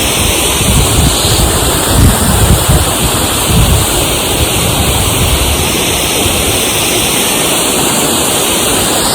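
Loud, steady roar of rushing water from Kuntala waterfall, continuous and close, with some wind buffeting the microphone.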